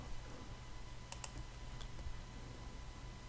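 A few sharp computer mouse clicks, quiet and close, land about a second in, set against a steady low background hum while editing in After Effects.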